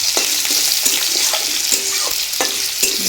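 Cut potatoes frying in oil with bay leaf hiss in a steady close sizzle. A spatula stirs and scrapes against the pan in regular strokes.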